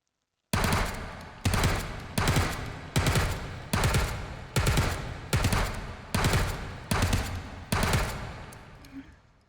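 An MP5A2 submachine gun firing in burst mode in the VR shooter H3VR, nine evenly spaced loud bursts with short gaps between them.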